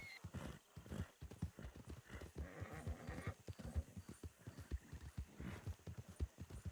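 A horse's hooves clip-clop in a steady rhythm in a roleplay video game set in a swamp, with a brief whinny among the footfalls, fairly close and with no talk over them.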